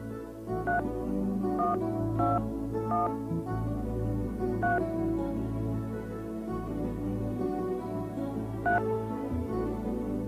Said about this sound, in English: search for a name and dial the corresponding number